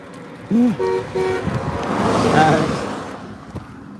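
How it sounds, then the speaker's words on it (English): A few short car horn toots sound close by in quick succession, followed by the rumble of passing road traffic. "A lot of horns honking today."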